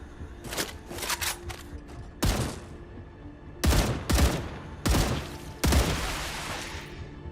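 Defensive gun turrets fire in StarRupture in several sharp, rattling bursts. The bursts come close and loud, with brief gaps between volleys.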